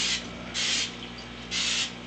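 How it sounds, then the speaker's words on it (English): Spray vegetable oil from an aerosol can misted onto a cast iron wok being seasoned: three hissing bursts, the first brief and the next two longer and broader, close by over faint background hum. "I tend to like using spray vegetable oil instead of regular vegetable oil"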